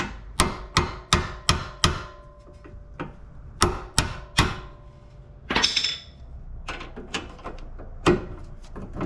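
A socket being tapped onto a bolt under a 2008 Pontiac G8, a series of sharp metallic knocks in quick groups, some near and loud, with clicks and small clatters between.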